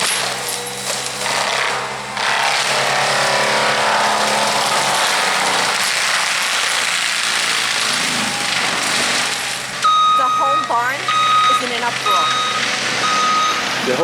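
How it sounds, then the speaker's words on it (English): Heavy yard clean-up machinery grinds and churns loudly and continuously while knocking down a tree, and partway through a steady electronic beeping starts in regular pulses over the din. "The beeping and the scrunching of the machine, all the animals are freaking out."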